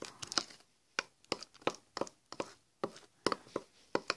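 A spoon working through thick brownie batter in a bowl, giving a series of sharp, uneven clacks and scrapes at close range with short pauses between strokes.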